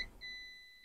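A short, faint high-pitched multimeter continuity beep sounds twice while testing a MOSFET on an HP EliteBook 840 G5 laptop board, the second tone holding steady briefly against a quiet background.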